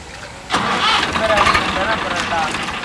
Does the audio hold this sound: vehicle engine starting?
yes